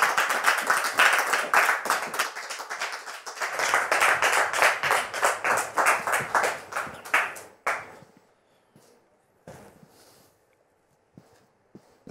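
An audience claps to welcome a guest onto a stage, a burst of applause that swells, holds for several seconds, then breaks off into a few scattered claps in the near silence.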